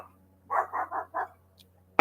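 A dog gives four quick barks in a short burst, fairly faint, over a low steady background hum.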